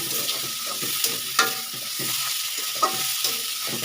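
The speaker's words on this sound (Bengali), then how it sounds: "তো এখন ছেড়ে দিচ্ছি এই চিংড়িগুলো তো এখন এটাকে আমি আবার ভালোভাবে কষাবো" Prawns stir-frying in hot oil in a pan, a steady loud sizzle broken by repeated scraping and clanking strokes of a spatula roughly every half second.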